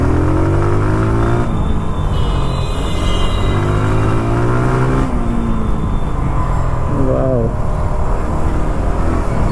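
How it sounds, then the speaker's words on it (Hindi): A TVS Apache RTR 160 2V BS3 motorcycle engine revs loudly and close, rising and falling in several pulls with a steady exhaust roar throughout. "ये गाड़ी लिटरली रोर करती है कि बस आप इसको खींचो।"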